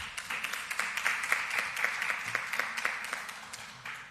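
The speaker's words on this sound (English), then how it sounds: "Yes, we can clap for that." An audience at a press conference on education claps steadily, a moderate patter of many hands that keeps going and then begins to fade near the end.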